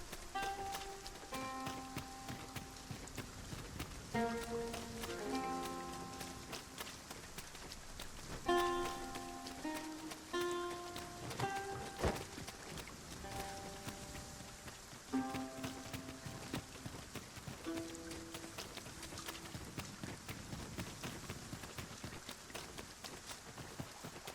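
In Dragon's Dogma 2, rain falls steadily and softly in the background under a calm melodic game score with plucked and chiming notes, and no one speaks.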